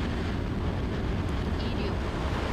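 The Nuri rocket's engines ignite at the start of its third launch, producing a steady, dense roar that holds at constant loudness throughout, with a faint voice underneath.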